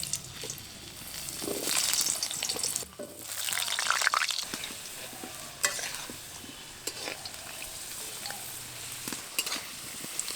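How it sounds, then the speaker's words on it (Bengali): Potatoes sizzle in hot oil in a kadai for a chicken curry, a close, continuous frying hiss with stirring scrapes and louder bursts early on, settling to a softer crackle. "আলুগুলো এখন ভেজে নেব।"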